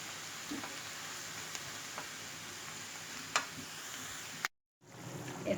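Half a kilo of mushrooms added to already browned onions and sautéing in a pan, a steady close sizzle with occasional ticks and stirring clicks, briefly cut off near the end before the frying resumes.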